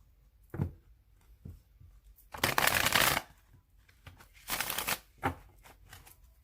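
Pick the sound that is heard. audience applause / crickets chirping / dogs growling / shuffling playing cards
shuffling playing cards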